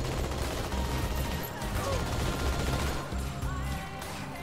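Dense, continuous Halo 2 gunfire rattles and crashes throughout, loud and busy, with a faint voice mixed in underneath.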